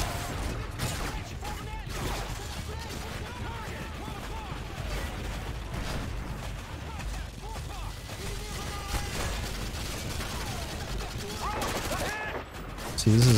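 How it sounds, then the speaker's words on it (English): Dense, continuous automatic gunfire and explosions from a Call of Duty: Modern Warfare 2 battle on PC, a steady loud wash of shots with voices talking underneath. "who's shooting me in the side?"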